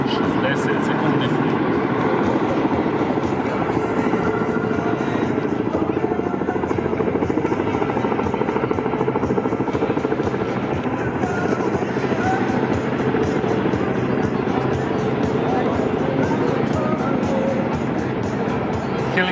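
A Kamov Ka-32 firefighting helicopter produces a loud, steady rotor and turbine roar that drones on without a break for the whole stretch, close and dominant.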